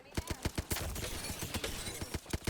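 Gunfire in a video game: a steady run of sharp, loud shots fired close by in quick irregular bursts that nearly blend into one volley.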